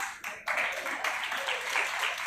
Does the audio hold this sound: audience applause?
yes